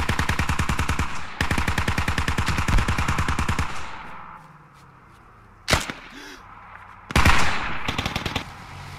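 Rapid automatic gunfire in the Squad tactical shooter video game: long, loud, steady bursts of rounds, then a quieter gap broken by single sharp shots and a final short burst.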